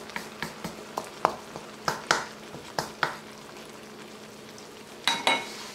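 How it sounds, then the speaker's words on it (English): Sweet potato leaves cook down in a stir-fry pan, producing a soft background sizzle under a series of regular, distinct spatula taps and scrapes, with a louder cluster of stirring clatter near the end. "Sweet potato leaves are getting cooked down."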